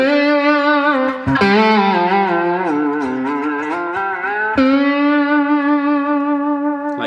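A sustained slide guitar note on the fifth string in open E tuning with heavy effects, its pitch sliding and wavering before settling, ringing loudly with reverb.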